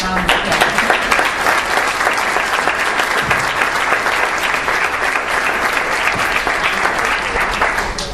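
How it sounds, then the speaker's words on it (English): A community celebration audience in Detroit breaks into a wonderful round of applause, loud, full and sustained clapping from a crowd filling the whole stretch. "Would you please join me in a wonderful round of applause?"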